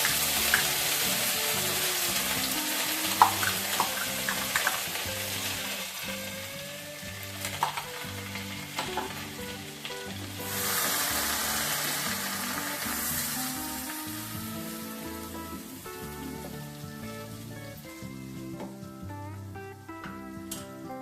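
Spice paste hits a hot pan for matar paneer and sizzles steadily over a low flame, a dense crackling fry close up with occasional stirring scrapes, no voices over it.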